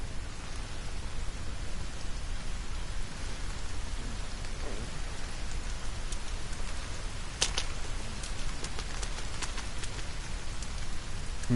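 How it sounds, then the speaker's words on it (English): Steady rain hisses across the forest in the survival game The Forest, a dense, even wash of falling water with a few sharper drips and crackles partway through, with no voices. "looks like it's going to suddenly start raining"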